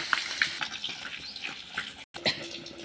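Potatoes frying in oil in a pan while cooking, a steady crackling sizzle with scattered pops and a brief stir, moderately quiet and close, with no talking.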